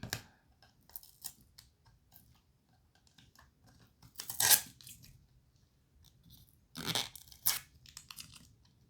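A sticker is peeled off a small slide-action tin in a few scraping, crackling tugs, close by and sporadic, with quiet gaps between louder rips and no voices.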